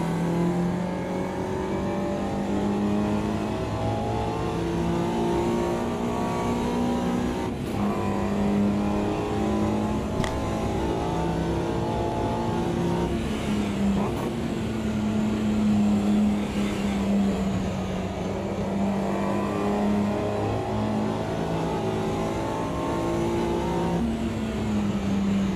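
A Mini Cooper races around Brands Hatch in the sim racing game Automobilista 2, its engine droning and revving continuously with pitch rising and dropping through gear changes and corners, loud and unbroken.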